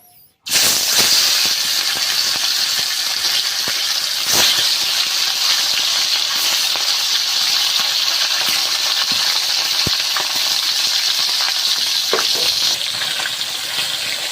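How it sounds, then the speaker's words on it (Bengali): Large tilapia fish frying in hot oil, a loud, steady crackling sizzle that bursts in about half a second in and holds near and unbroken to the end, with scattered pops and spits. "তেল গরম হয়ে গিয়েছে আর মাছগুলো আস্তে আস্তে দিয়ে ভেজে নেবো।"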